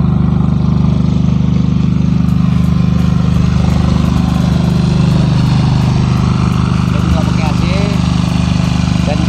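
Engine running aboard a fishing boat, a loud, steady low droning hum with constant rumble throughout, while people talk over it.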